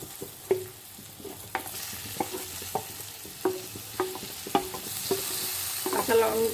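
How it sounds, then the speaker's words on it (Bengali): Green chilli and tomato frying in a pan, with a steady background sizzle broken by repeated sharp scrapes and clicks of stirring at an uneven rhythm, close and alone. "এরপর কাঁচা লঙ্কা আর টমেটোটা দিয়ে দেব।"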